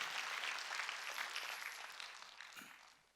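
A church congregation at a Wednesday worship service claps together, a broad wash of applause at moderate distance that gradually thins and fades out.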